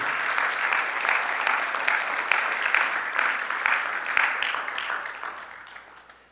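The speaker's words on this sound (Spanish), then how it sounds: "Dele un aplauso al Señor." A church congregation claps steadily for the Lord during a sermon, a dense sustained applause at close range that swells and fades slightly toward the end, with no speech over it.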